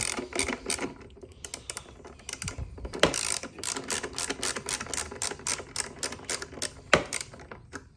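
A ratchet wrench undoing bolts on a Yamaha R6 motorcycle, giving rapid bursts of close, crisp mechanical clicks in quick runs with brief pauses and a couple of louder knocks.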